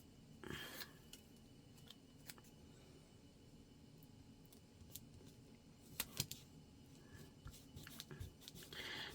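Scissors snip along the edge of thick fabric tape in a few quiet, separate cuts, with faint handling rustles between them in a calm room.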